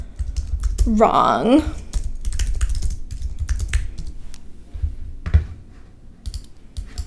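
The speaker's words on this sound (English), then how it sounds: "let me try typing without so many typos so it will actually show up" Typing on a computer keyboard, a busy patter of key clicks running under a man's speech throughout, with a few sharper isolated taps.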